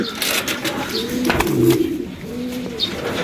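A racing pigeon at a loft coos nearby in a few low, rolling phrases, with faint rustling in the background.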